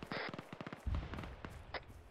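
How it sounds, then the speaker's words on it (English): Demolition charge explosion in the ArmA 3 military shooter, a loud low-frequency blast booming out near the middle of the moment amid other crackling gunfire-like bursts, with radio-style voices talking around it. "If you didn't catch it, that explosion was the demo"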